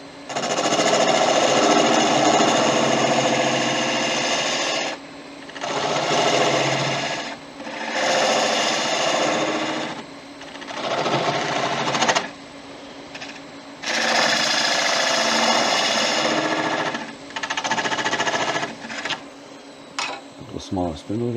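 A wood lathe turns an end grain bowl while a gouge removes the leftover tenon, producing loud, harsh scraping and chattering cuts in repeated bursts of a few seconds separated by short quiet pauses.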